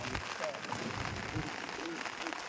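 Heavy rain pattering steadily on a surface outdoors near a fish market, a dense hiss with soft scattered drops, fairly quiet, under faint background voices.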